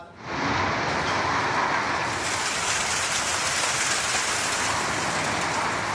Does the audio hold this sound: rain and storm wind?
yes